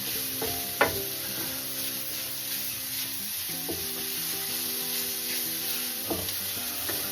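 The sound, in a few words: sausage meat frying in a pan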